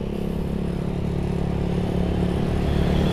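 A motorcycle exhaust runs with a steady low rumble, close and fairly loud, holding an even drone throughout with no talk.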